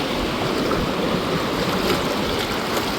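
Sea waves wash steadily onto a Lakshadweep shore at low tide, a continuous close rush of surf and water with no breaks and no voices.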